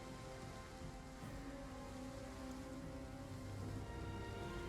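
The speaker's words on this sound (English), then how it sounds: "Oh, it's raining!" Rain falls in the video game Rise of the Warlords as a faint, steady patter over a low ambient hum, continuous and unchanging throughout.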